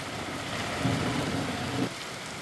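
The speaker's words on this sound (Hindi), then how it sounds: "गुना में तेज ठंड के साथ अभी बारिश हुई है" Rain falls steadily in Guna during a cold spell, an even broadband hiss with no talk, a faint low rumble swelling briefly in the middle.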